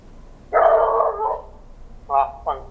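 A dog barks close by, first in one long rough bark and then in two shorter yaps, with no talk over it.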